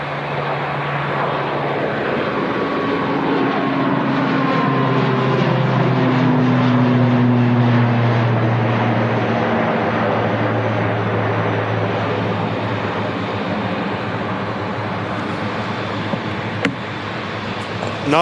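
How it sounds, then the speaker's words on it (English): An Aer Lingus Regional ATR 72 turboprop departs Manchester Airport, its engine drone loud and steady with clear propeller tones that sweep downward in pitch as it passes, then fade gradually into the distance. "heading back to Dublin, the Aer Lingus Regional,"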